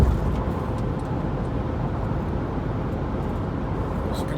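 Cars speed along a highway through a construction zone, heard as a constant, moderately loud road roar and tire hiss, as if from inside a moving vehicle.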